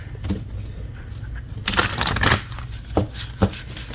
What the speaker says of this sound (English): I had to shuffle it live.